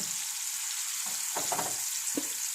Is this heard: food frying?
yes